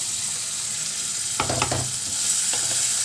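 Ingredients frying in a pan, a low steady sizzle with a brief burst of louder stirring and scraping near the middle.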